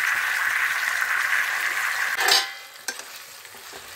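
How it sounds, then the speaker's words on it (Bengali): White flat beans fry in a pan with a soft continuous sizzle, a brief louder burst of stirring or lid movement midway, then quieter crackling with a few sharp clicks. "শিমটা ভাজা হয়ে শিমটা নরম হয়ে গেছে, ভাজা হয়ে গেছে।"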